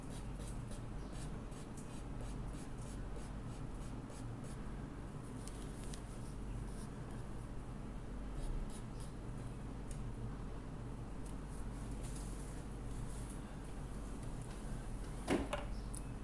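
Blending stump rubbed on paper while shading pet fur in a drawing, a soft, steady scratchy rubbing with repeated strokes, quiet and close, with a brief knock near the end.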